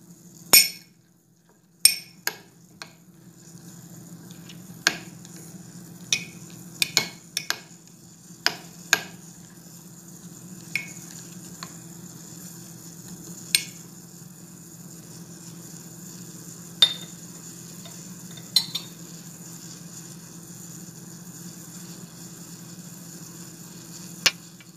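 Cooking oil heating in a pan with ginger, spitting now and then: sharp, isolated pops and crackles break irregularly over a steady low simmering hiss, close by, with no voices.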